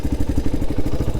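A 1988 Honda XL200R motorcycle engine ticks over at idle, a steady, rhythmic, close, loud chugging pulse with a mechanical clatter and no talking.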